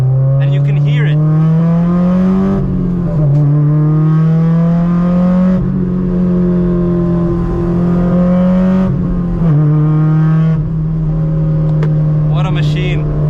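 A Honda S2000 AP2 fitted with a Tomei exhaust pulls hard through the gears, its loud engine note climbing in pitch, dropping at each shift and climbing again, with a voice talking over it.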